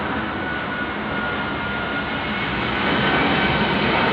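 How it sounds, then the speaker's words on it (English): An airplane passes low overhead with a loud, broad jet-engine roar that holds steady and swells slightly toward the end, nearby and unbroken, with no talking. "Patrol vehicle passed me as the plane goes over my head"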